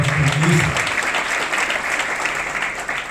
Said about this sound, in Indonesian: Kasih tepuk tangan yang mulia.